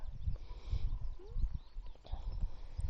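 Horses on a farm in Napier Village, Overberg, Western Cape, with hooves clopping and shuffling in short bursts close by and faint movement between steps. Nobody speaks.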